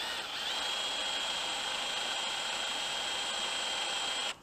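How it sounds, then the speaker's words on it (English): A power drill grinds steadily through soft metal bolts on a stripped Dana 44 axle hub for a few seconds, a loud continuous whine with no talking, cutting off at the end. "see how easily these drill out"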